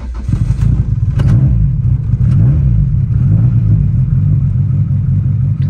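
A car fitted with a Burton Racing cop kit runs just after its first start, a close, steady, low engine rumble with a slightly uneven pulse and no voices.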